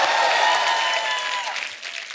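A live studio audience applauds loudly at a Hindi comedy show honoring a singer, the dense clapping holding steady and then thinning slightly toward the end.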